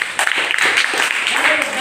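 Students in a classroom clap together in a short, lively burst of applause, close and fairly loud, with uneven hand claps overlapping briefly.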